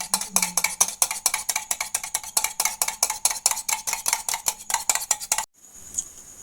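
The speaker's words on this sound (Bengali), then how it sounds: "লবণ দিয়ে ডিমটিকে ভালো করে ফাটিয়ে নেব" Eggs beaten with salt in a bowl, a fast steady run of sharp clinking strokes of utensil against the bowl for about five seconds, close and fairly loud, then stopping abruptly into quiet room tone.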